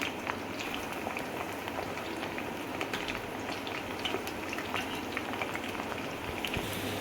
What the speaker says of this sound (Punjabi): ਹੁਣ ਆਪਾਂ ਵੇਂਗਣੀ ਨੂੰ ਆਪਾਂ ਫਰਾਈ ਕਰ ਲੈਂਦੇ